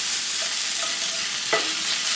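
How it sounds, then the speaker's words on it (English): Beef for a biryani fries in a pan with onions, garlic and ginger, giving a steady close sizzle and hiss, with one clunk of stirring near the end. "I've been frying up the beef as well"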